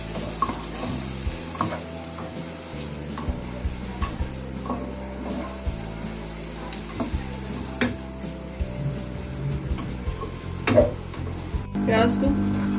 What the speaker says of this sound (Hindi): अब हम प्याज डाल देते हैं ऑयल में।